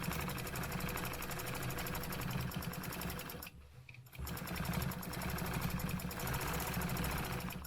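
A close embroidery sewing machine stitches diagonally across fabric for a stencil design, with a fast, even mechanical chatter that dips briefly for a moment in the middle, then resumes at the same pace.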